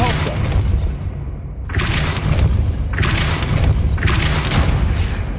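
Hogwarts Legacy's Depulso spell fires in three loud repeated booming blasts about a second apart, each a sharp burst that rings out over a rumbling low background.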